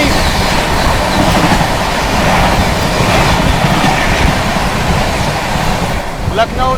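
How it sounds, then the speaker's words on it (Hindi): The Lucknow Swarna Shatabdi Express rushes past during a crossing, heard from inside a moving train as a loud continuous roar of wheels and wind with faint clicking, a brief screech near the end. "थोड़ी बहुत देर में अपनी क्रॉसिंग भी होगी लखनऊ स्वर्ण शताब्दी एक्सप्रेस के साथ"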